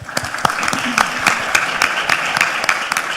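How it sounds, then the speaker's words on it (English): Clapping rises from an audience at a JA Africa competition day for Team Ghana, loud, close individual claps in a fairly sparse, irregular rhythm over a soft crowd murmur. "Round of applause for Team Ghana, please."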